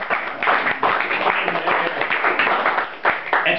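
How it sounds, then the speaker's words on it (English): A room of people at a talk in Hollis, New Hampshire, breaks into steady applause, dense clapping that holds loud and unbroken throughout. "if anybody should get a round of applause, it should be yourselves"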